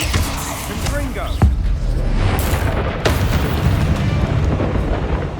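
A Confringo fire spell blasts in the video game Hogwarts Legacy, with several booming explosive hits and bursts over constant game ambience and combat noise.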